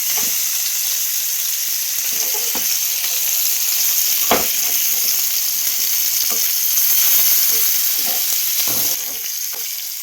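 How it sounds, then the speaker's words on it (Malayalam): Thinly cut fish fries in hot oil with a loud, continuous close-up sizzle, marked by occasional sharp pops and crackles and no voices. "നല്ല കനക്കുറച്ച് കട്ട് ചെയ്തുകൊണ്ട് പെട്ടെന്ന് ഫ്രൈ ആയി കിട്ടുന്നുണ്ട്."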